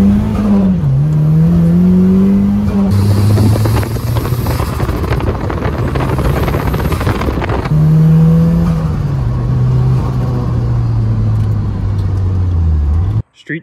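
Turbocharged Mazda Miata accelerating on the street under boost, its engine note rising and falling through gear changes, loud and close with steady wind noise throughout.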